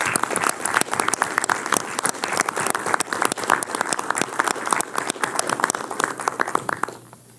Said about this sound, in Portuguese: solicitar a todos uma salva de palmas para esse pessoal